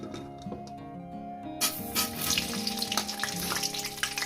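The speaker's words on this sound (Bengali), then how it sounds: "লাল লাল করে আলুগুলো ভেজে নেবো" Potatoes frying with turmeric in a pan of spiced oil give a sizzle that swells suddenly louder partway through, over a steady tonal hum, with no talk.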